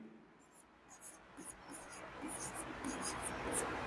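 A pen writes out a Class 10 maths solution on real numbers, giving soft repeated scratching strokes in short bursts. A steady hiss of room noise sits underneath, and quiet whispery speech runs alongside the writing.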